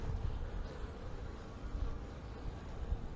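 Honeybees buzz around a hive with queen cells, a steady low droning hum of many wings, soft and continuous with no voices.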